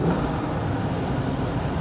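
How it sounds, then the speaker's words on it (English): Dodge Ram Viper SRT-10 pickup engine running with a slight misfire, a steady loud low rumble close by with a faint rise in revs and no talking. "Sounds like when you start revving it up a little bit, it might have a slight misfire."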